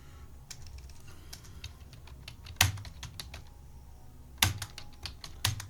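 Quick, irregular keystrokes on a computer keyboard during data entry in TallyPrime accounting software, with a few louder taps that stand out, heard close and alone without talk.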